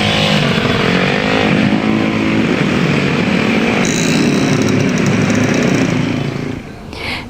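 Dense motorcycle traffic of homebound holiday travellers on the Pantura road in Indonesia, a steady loud roar of many engines passing with buzzing revs, easing slightly near the end.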